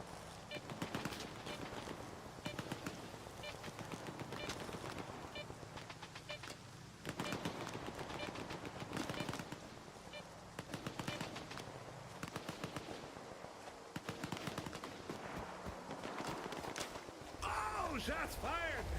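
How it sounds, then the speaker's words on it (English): Sustained automatic gunfire in the video game S.T.A.L.K.E.R 2, rapid bursts rattling steadily for the whole stretch at moderate distance, with a voice talking over parts of it. "Oh, shots fired!"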